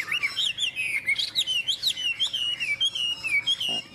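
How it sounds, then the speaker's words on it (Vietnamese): A nightingale-thrush (hwamei) sings close by in a rapid, continuous stream of bright, warbling chirps and trills, varied and melodic, with no talking. "Đấy, giọng hót hay luyến láy."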